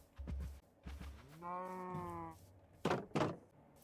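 Sheep in the Minecraft video game give a harmonic, wavering bleat in the middle, between short dull thumps and knocks, with no talking.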